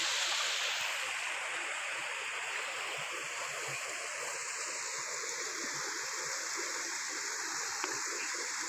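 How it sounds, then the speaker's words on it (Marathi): A small stream flows steadily, a constant bright rush and babble of water with no voices. "निसर्गाचा आवाज पाण्याचा आवाज त्या थेंबा थेंबामधून किती आनंद मिळतो"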